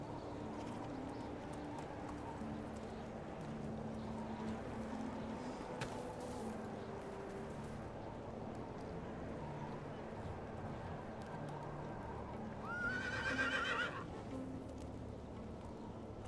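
A horse trotting with steady clip-clop hoof beats in the medieval survival game Medieval Dynasty, continuous under a low game ambience, with a brief whinny-like cry near the end.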